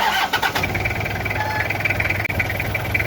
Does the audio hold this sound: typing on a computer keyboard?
no